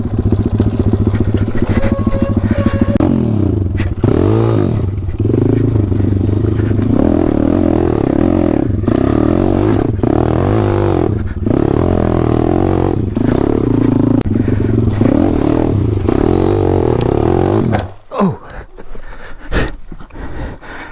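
A 190 motorcycle engine runs hard and loud for a sustained stretch, revving up and down in long pulls close to the microphone, then cuts abruptly near the end, leaving scraping and clattering sounds.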